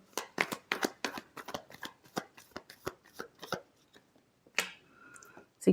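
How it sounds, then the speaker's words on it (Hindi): Tarot cards being shuffled in quick riffling bursts, close and crisp, followed by a few softer slaps and a brief pause. "Last shuffle."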